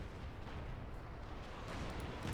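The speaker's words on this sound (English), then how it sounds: "Got bomb in the centre here from Kimbo's howitzer." Howitzer shell barrage in Company of Heroes 2, a faint, distant, continuous low rumble of explosions rolling on through the whole stretch, with no voices.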